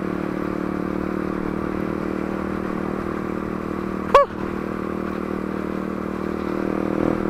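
Yamaha XTZ motorcycle engine idling with a steady low, even putter, joined midway by one brief sharp clatter, then running on alone.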